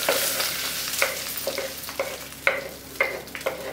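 Tempering for a yellow moong dal with carissa berries sizzling in a pan, with a steady frying hiss broken by regular stirring clinks and scrapes about every half second, close and alone.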